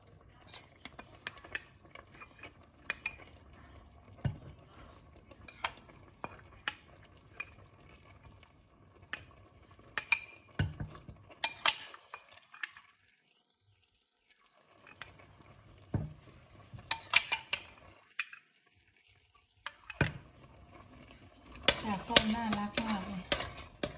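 Cooked sticky rice is scooped from a pot over low heat, giving scattered soft scrapes, taps and clinks of a utensil against the pot, with a denser run of scraping at the end.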